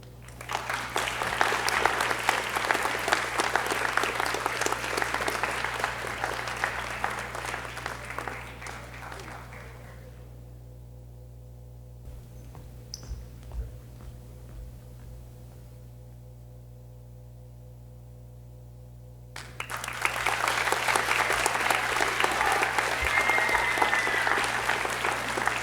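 An audience at a school honors and awards ceremony breaks into loud, dense applause, which fades to a quiet hall with a low hum for about ten seconds before another full round of clapping.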